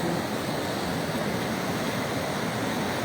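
The swollen Tagoloan river rushes past in a strong, fast current, a dense continuous roar of churning water, loud and unbroken.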